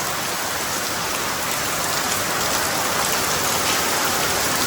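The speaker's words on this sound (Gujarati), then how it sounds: "અમારે આજ પાછો વરસાદ ચાલુ થઈ ગયો હે" Heavy rain pours down in a village, a dense, steady hiss of drops on the ground and surfaces that stays even throughout with no voices.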